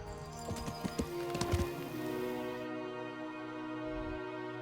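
Horse hooves clip-clop in a rapid, uneven patter in the medieval video game Kingdom Come Deliverance, fairly close, then fade out, leaving a steady low ambient hum.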